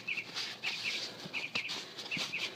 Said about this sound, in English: You get music, bird music, as we do this.